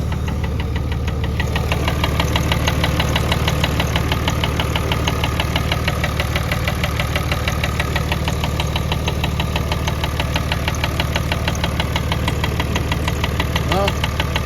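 A cheap Cummins diesel engine runs with a loud, rapid and steady mechanical knock pulsing over its droning idle.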